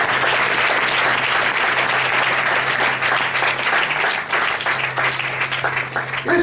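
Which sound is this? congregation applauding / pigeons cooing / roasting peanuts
congregation applauding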